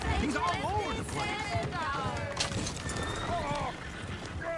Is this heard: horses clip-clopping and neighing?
yes